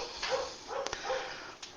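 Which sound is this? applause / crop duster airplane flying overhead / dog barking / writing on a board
dog barking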